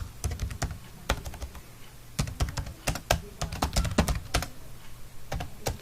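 Fingers type a name on a computer keyboard while working in an Excel spreadsheet, giving a steady run of close, crisp key clicks with brief irregular pauses.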